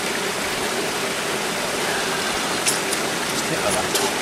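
River water flowing in a steady close rush, with faint splashes near the end, at a cold riverside during a temple's winter ascetic practice; voices are faintly present.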